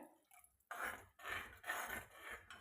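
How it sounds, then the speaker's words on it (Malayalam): Water poured into a pan of simple fish curry, coming in a few separate gushing splashes with short pauses between them, close and fairly loud. "കുറച്ചുകൂടി വെള്ളം ഒഴിക്കുന്നുണ്ട്"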